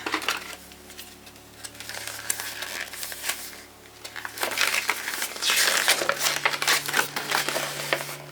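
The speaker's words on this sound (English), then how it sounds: "if I can get this tape off here" Tape being peeled and tugged off a Brushos paint kit's packaging, crackly crinkling scratches in bursts, louder and denser in the second half, close up with no talk.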